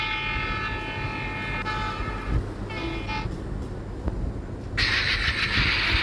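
A goods train in the Indian Train Simulator video game rumbles along with a steady low rolling drone, interrupted by a few short horn toots and a brighter hissing burst near the end, with no voices.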